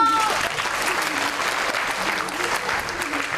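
Studio audience at a French comedy game show applauding an eliminated contestant, a dense sustained round of clapping from a crowd, fairly loud and continuous, with a faint voice under it at the start.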